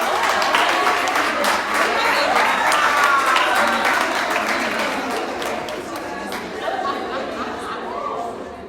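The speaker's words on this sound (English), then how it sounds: "So a round of applause." An audience breaks into applause at a careers talk event, lively clapping mixed with chatter and a few chuckles, gradually thinning out as voices take over.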